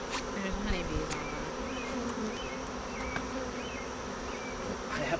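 Honeybees buzz steadily at close range around a homestead, a continuous droning hum with a few louder passes as individual bees fly near, with no talking.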